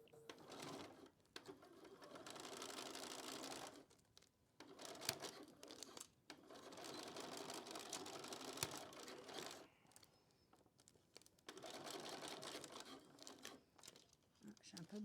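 A BERNINA B590 sewing machine stitches a final seam on a jersey pouch prototype, running in several rapid, close mechanical bursts separated by short pauses.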